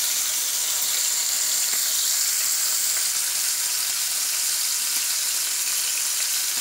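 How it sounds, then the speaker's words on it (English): Bacon sizzles and crackles steadily in a hot frying pan, a continuous bright hiss with no talking. "I'm gonna start by frying my bacon."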